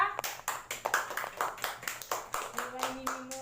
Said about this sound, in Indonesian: Beri tepuk tangan untuk Indah